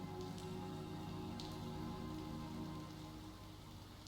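Steady rain patters in a video game, the Last Time I Saw You demo, a dense continuous wash of drops with a few brighter splashes, holding even throughout and easing slightly near the end, with no talk over it.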